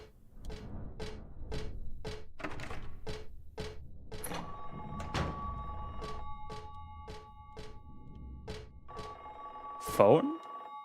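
A telephone rings in Silent Hill 3, a steady series of evenly spaced electronic bell bursts repeating at moderate volume, with a louder vocal outburst near the end.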